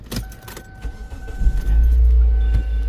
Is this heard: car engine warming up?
yes